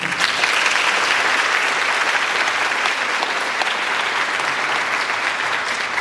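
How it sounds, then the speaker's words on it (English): A large audience at an evening student honors ceremony bursts into sustained applause, loud and steady throughout with a faint crowd murmur underneath. "Give yourselves a hand of applause."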